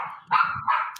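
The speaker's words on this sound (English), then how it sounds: "and that's my dog. And that puppy is saying it is time to go." A puppy barks in a home, two short sharp yips close to the microphone with a brief whine between them, loud and alone with no talking.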